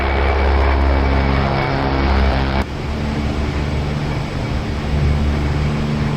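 A Bronco propeller aircraft in the DCS World flight simulator, a loud steady engine and propeller drone that drops abruptly in level partway through and then carries on at a lower, rougher rumble.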